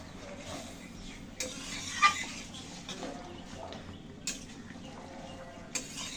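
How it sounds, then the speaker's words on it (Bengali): A spoon stirring egg and potato curry in a pot, with steady scraping and occasional sharp clinks against the metal over a low simmer. "এখন ভালো করে মিশিয়ে নিয়ে আমি তরকারি নামিয়ে নেব।"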